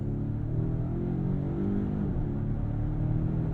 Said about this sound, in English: It'll build up the revs and let us get on out of here quickly.